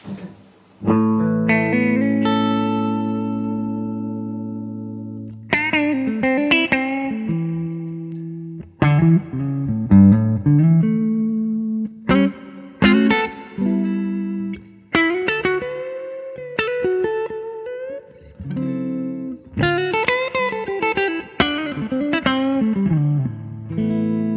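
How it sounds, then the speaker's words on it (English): Clean electric guitar played through a Supro amp with Big Sky reverb, a run of ringing chords and single-note phrases with lingering reverb tails, close and clear, unaccompanied and without talking. "So this is it clean into the Supro with a little bit of reverb from the Big Sky."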